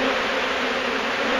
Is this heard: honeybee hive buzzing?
yes